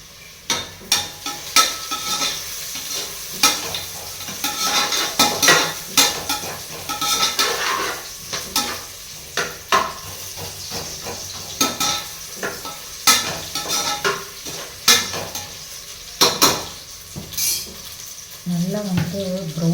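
Food fries in hot oil with turmeric in a pan, a constant close sizzle broken by frequent sharp clinks and scrapes of a utensil stirring against the metal, with brief faint talk.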